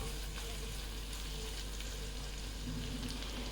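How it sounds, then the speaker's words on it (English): Freshly ground ginger and garlic fry in a pan with a steady, continuous sizzle and occasional stirring, close and even throughout, with no talking. "Fry it for a little while."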